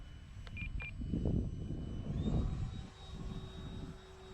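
E-flite Habu STS electric ducted fan RC jet on a 4S battery pack, flying slowly overhead: a steady whining fan tone that shifts pitch midway over low wind rumble, with a few short beeps early on.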